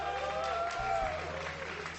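A live esports audience at a StarCraft 2 GSL vs the World 2019 match applauds in a broad, steady wash of clapping and crowd noise. Tonal sounds and faint talk sit beneath it.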